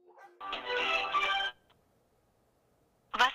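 An unanswered telephone call rings once as a continuous electronic tone for about a second, then silence before a second ring begins.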